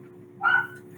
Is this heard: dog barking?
yes